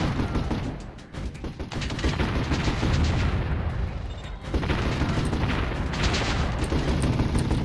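Gunfire attacking a turret in the Warzone 2100 strategy game, a dense stream of rapid shots and booms rolling continuously with a brief lull near the middle before resuming.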